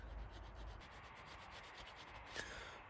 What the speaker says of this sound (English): I'm just going to take a small file and just try and file that back until that's nice